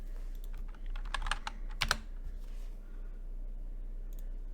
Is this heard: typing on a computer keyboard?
yes